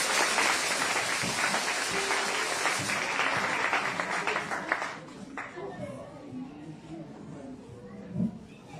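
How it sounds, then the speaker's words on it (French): A church congregation at a Sunday worship service breaks into loud, sustained applause and crowd noise for the pastor, then it fades into scattered claps and murmuring chatter as a voice begins to speak. "Donc, vous allez l'acclamer."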